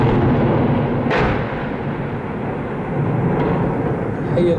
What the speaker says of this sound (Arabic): حي القرابيس 5/8/2013، قصف عنيف يستهدف